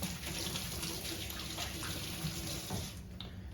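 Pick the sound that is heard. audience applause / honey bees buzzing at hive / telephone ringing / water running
water running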